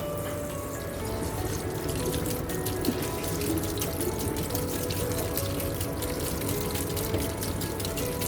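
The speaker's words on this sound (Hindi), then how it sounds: "पहले तो मैं कोशिश करती हूँ कि हमारे टैप में से ठंडा पानी निकल आए" Water pours steadily from a kitchen tap into a sink, a continuous close splashing rush with no talk.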